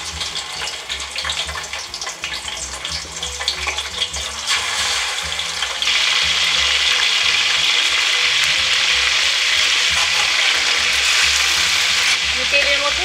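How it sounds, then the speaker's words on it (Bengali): Marinated chicken frying in hot oil in a pan gives a steady, close sizzle that grows louder and denser partway through, over a low rhythmic kitchen hum. "আমি মাখানো মুরগিগুলোকে এখন তেলের মধ্যে ছেড়ে ভেজে দেখব।"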